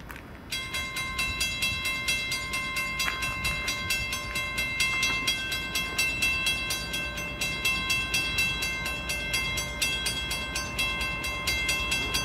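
A westbound Norfolk Southern train (NS 233) led by a GE Evolution-series locomotive passes at night, with a steady rumble, a rhythmic clickety-clack of wheels over rail joints and sustained tonal ringing throughout.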